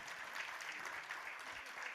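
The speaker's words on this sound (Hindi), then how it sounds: "जोरदार तालियों के साथ स्वागत कीजिए" An audience at a New Year gathering applauds to welcome guests, a dense, steady wash of clapping heard at moderate distance.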